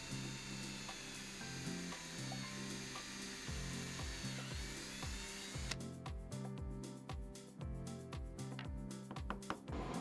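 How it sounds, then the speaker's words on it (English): A drill bores screw holes through a pair of Stihl felling dogs, starting with a steady whirring and then breaking into a repeated rhythmic ratcheting chatter as the bit bites into the metal, close and alone without speech. "So you can just place your drill bit into there and just send it through."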